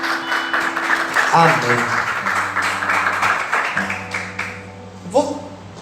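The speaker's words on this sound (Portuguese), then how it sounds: "Vamos aplaudir o Senhor com alegria" A church congregation claps together through a Portuguese-language worship service, the applause mixed with voices and sustained musical tones, ending as one voice says a short word.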